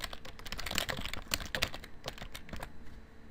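Rapid bursts of keystrokes on a computer keyboard, close and clear, typing a short sentence in uneven clusters before slowing to a few final taps.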